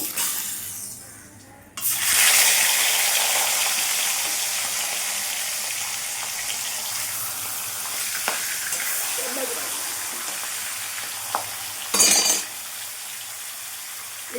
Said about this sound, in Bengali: তেলটা গরম হয়ে গেছে আমি এবার মাছগুলো ভেজে নেবো